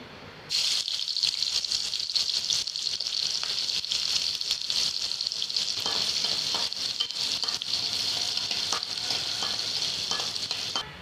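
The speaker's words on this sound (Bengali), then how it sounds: "এখন একই কড়াইতে পেঁয়াজ ভেজে নেব।" Onions frying in the same wok used for eggs, a loud, dense sizzle that starts abruptly and runs steadily, broken by scraping and rattling stir strokes throughout; no voices.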